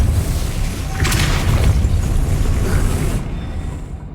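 A Depulso force spell cast in Hogwarts Legacy, a steady booming whoosh with a brief bright burst near the start, sustained and loud, then cut off abruptly near the end.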